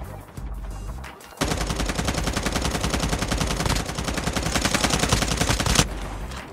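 Rapid automatic gunfire from Call of Duty Mobile, a dense unbroken burst of shots lasting several seconds after a short lull, loud and close, with no talk over it.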